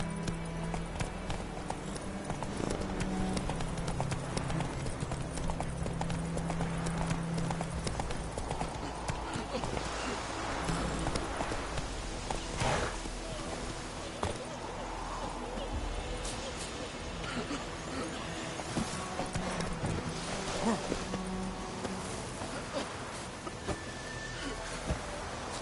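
Roach the horse gallops in The Witcher 3, a fast run of clip-clop hoofbeats that stays steady and prominent throughout. Game music and ambience play underneath, and voices talk at times over the hooves.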